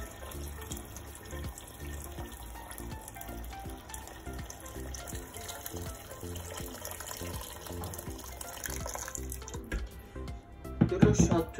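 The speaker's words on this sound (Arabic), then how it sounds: "On va mettre un peu d'eau, un peu d'eau." Water pours steadily into a cooking pot of vermicelli and meat, a continuous faint running-water hiss that swells near the end, with a voice speaking over it.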